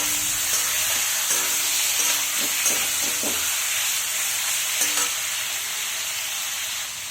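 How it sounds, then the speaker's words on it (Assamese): Chicken frying in hot mustard oil gives a loud, continuous sizzle and hiss close by, with a few scraping stirs in the first half before the sizzle fades slightly. "সৰিয়হৰ তেলখিনি অকণমান স্লাইড গৰম কৰি লৈছোঁ, লৈ পেলাই চিকেনখিনি মই দি দিছোঁ"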